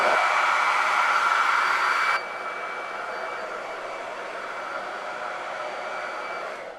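A hair dryer blows steadily on watercolor paint between layers on a vinyl character artwork, a loud close whoosh that drops to a softer, lower setting after about two seconds and keeps running to the end.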